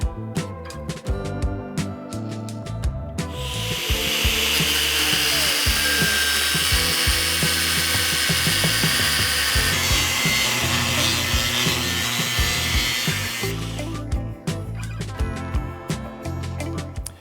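A 12 gauge steel sheet is cut to size with a power tool for a welding table top. The cutting runs as one loud, continuous, harsh grind for about ten seconds, with quieter clatter and handling noises before and after.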